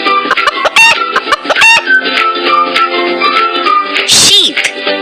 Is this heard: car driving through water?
no